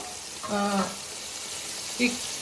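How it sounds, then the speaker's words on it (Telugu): Minced mutton keema goes into a hot pan with fried masala and gives a short sizzle and stir, a brief close burst of frying with faint background noise. "ఇప్పుడైతే మనం ఈ కీమా వేసేసుకుందాము"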